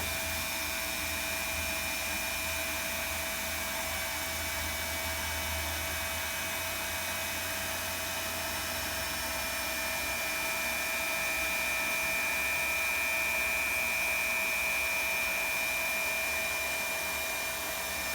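A hot-air welding gun fuses weld rod into a seam of vinyl sheet flooring, giving a steady, loud blower hiss with a constant high whine that runs unbroken and close throughout.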